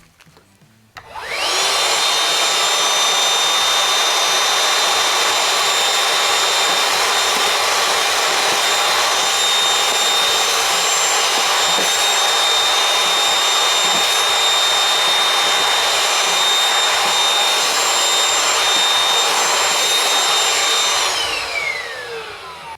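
A Ryobi 18V ONE+ 3-gallon P3240 wet/dry vacuum with a flat blade attachment runs continuously for about twenty seconds, a loud steady whine and rush as it sucks up sawdust, starting and stopping abruptly.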